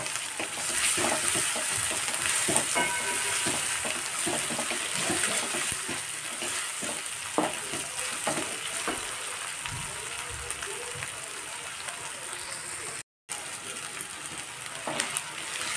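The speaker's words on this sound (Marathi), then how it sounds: "टोमॅटो टाकून घेतलेले आहे मी। कांदा छानपैकी गुलाबी झालेला आहे।" Tomatoes, onion and ginger-garlic paste fry in a pan for dhaba-style pav bhaji. A continuous loud sizzle runs under stirring and scraping, cut off by a brief drop to silence near the end.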